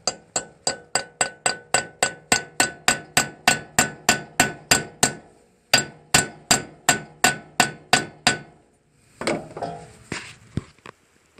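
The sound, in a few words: hammering 13 mm extractor socket onto stripped flywheel bolt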